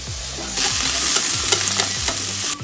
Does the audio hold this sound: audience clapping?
no